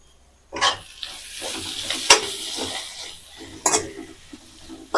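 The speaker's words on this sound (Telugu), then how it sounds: "కొద్దిగా కొత్తిమీర వేసి బాగా మిక్స్ చేసుకుందాం" Drumstick leaves masala with coriander stirred in a pan, repeated spatula scrapes and clinks against the metal over a light sizzle, fairly close, no voices.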